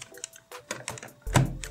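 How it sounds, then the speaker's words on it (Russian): Handspring Treo 180G PDA being seated into an external Palm-compatible keyboard, giving a few light plastic clicks and a soft thunk near the end, close and fairly quiet. "И вот мы берем, устанавливаем наш замечательный КПК"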